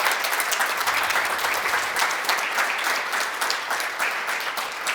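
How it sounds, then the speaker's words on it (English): Steady applause from a conference audience after a talk by Fred Pike on data analysis and classical mandolin, dense clapping holding an even level for the full stretch with no voices over it. "Round of applause for Fred."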